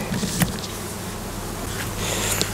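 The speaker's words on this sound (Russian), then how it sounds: "Пчелы опять работают. С утра вот летают куда-то." Honeybees flying around hives at a stationary apiary, a steady soft buzzing hum that carries on throughout, with a few brief louder passes.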